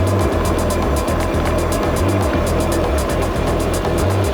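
A Velowave Ranger fat tire e-bike cruising at about 20 miles an hour on its thumb throttle, heard as a loud, continuous rush of motor whine and wind with a steady low rumble throughout.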